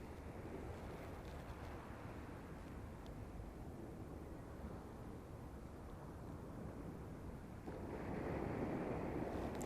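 Waves rolling onto a beach on a cool, crisp morning, a constant wash of surf with wind rumble, moderately distant, swelling louder near the end, with no voices.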